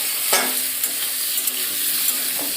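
Curry sizzling and frying in a pan at home while being stirred, a steady hiss with occasional scraping clicks of the spoon, close and moderately loud, no voices.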